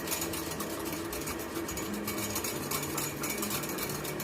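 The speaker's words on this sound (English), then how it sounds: "A dash of milk. Whisk it up to tie it together." An egg with a dash of milk is whisked briskly in a bowl in a home kitchen, giving a steady, dense rattle of rapid clicking that runs without pause from start to finish.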